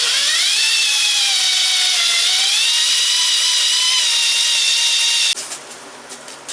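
A power drill runs at high, steady speed for several seconds, a loud sustained whine grinding into metal before cutting off abruptly.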